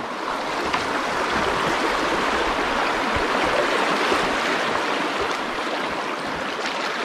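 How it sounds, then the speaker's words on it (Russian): Rapids on a branch of the Lemva River in the Subpolar Urals, heard during a kayak trip: a loud, steady rush of turbulent water over a riffle, continuous and broadband with no voices. "Вот он, приятный перекат в одном из рукавов Лемвы."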